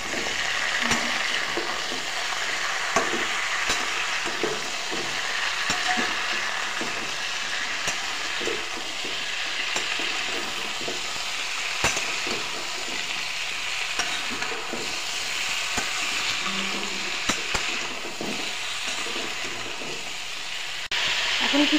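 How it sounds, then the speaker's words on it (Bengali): Sajna pieces with green chillies, salt and turmeric get stirred in a frying pan, a steady close sizzle broken by scraping spatula strokes throughout. "এখন ভালো করে নাড়াচাড়া করে নেব"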